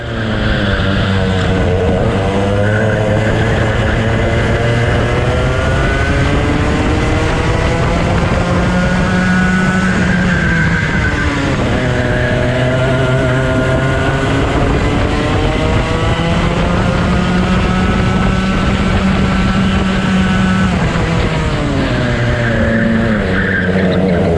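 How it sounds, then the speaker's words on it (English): Several racing karts buzz around a track together, engines whining and rising and falling in pitch as they battle through corners and down the straight, loud and continuous throughout with no talk. "For a few more laps I followed the 2 karts in front and just watched them battle"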